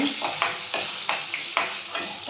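Lemon rice in a hot pan being stirred, with a dense sizzle under regular scraping strokes about every third of a second, close and steady.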